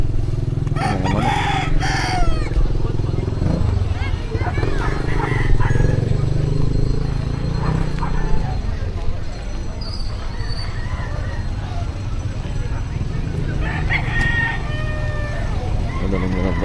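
Roosters crow loudly and repeatedly among clucking chickens at the busy Bocaue Pet Market in the Philippines, with other birds calling in the background and people talking nearby.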